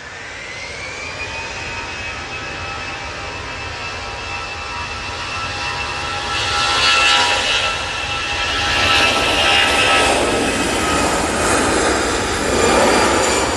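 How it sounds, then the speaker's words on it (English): A Ryanair airliner arriving at Manchester Airport: a steady jet whine with a tonal hum, swelling into a louder broadband roar about halfway through as it passes nearby, then holding strong to the end. "So we just had a Ryanair come in."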